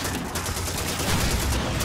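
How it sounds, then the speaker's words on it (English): Sustained machine gun fire from a tank in the Call of Duty 2 video game, a dense, continuous rattling barrage that stays loud and steady for under two seconds with no talk over it. "There's a machine gun on it, and they'll take care of it."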